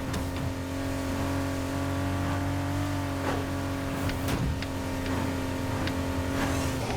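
A modified car in the racing game Need for Speed Heat holds a steady engine drone as it accelerates, with sharp clicks and impacts over a continuous loud hum.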